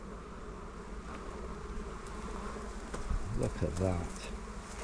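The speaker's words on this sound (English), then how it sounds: "Look at these incoming bees" Dense, steady buzzing of many honey bees at a hive entrance fills the air up close, with a brief spoken remark partway through.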